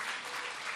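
An audience at a spiritual discourse on the Mahabharata breaks into applause, a brief, even wash of many hands clapping at moderate distance, steady throughout with no voice over it.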